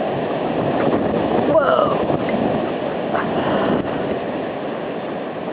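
Strong blizzard wind roars steadily and loudly, a broad constant rush with slight surges. A voice briefly exclaims over it.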